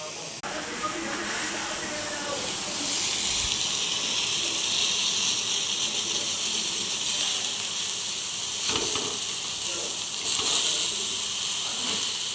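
Food cooking with little oil on a hot tawa griddle gives a steady, fairly loud hiss and sizzle throughout, with a few faint knocks and clatters along the way.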